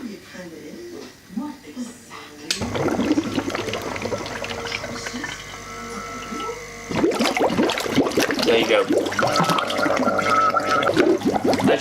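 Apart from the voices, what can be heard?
Hailea ACO 9810 water pump filling a jug with water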